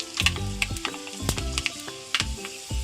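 Mustard seeds, fenugreek and dried chilli dropped into hot oil for a Kerala ash gourd moru curry, giving a close sizzle broken by several sharp pops and crackles and a few clinks of a spoon.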